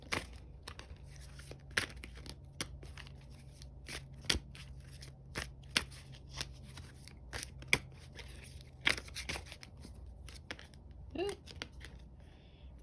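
Tarot cards are shuffled and drawn close up, giving crisp, irregular snaps and riffling slaps with soft papery rustling between them and no talking.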